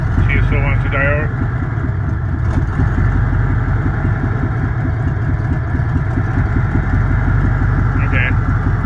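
A car engine idles with a steady low rumble, its revs creeping upward and struggling as if wanting to die out, while people talk briefly over it close by.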